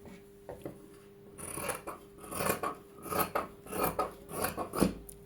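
Scissors cutting embroidered blouse cloth, a steady series of close crisp snips and slicing strokes, growing denser and louder through the middle and ending in a sharp final cut.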